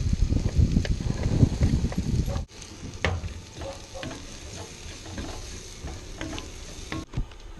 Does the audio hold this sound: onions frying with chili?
yes